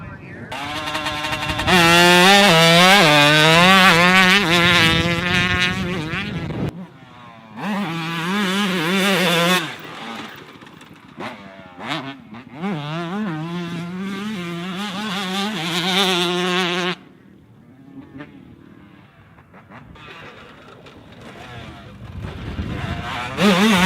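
A 2004 Kawasaki KX125 two-stroke dirt bike screams through repeated high revs and gear changes, rising and falling loudly up close, then drops to a lighter engine note before revving again.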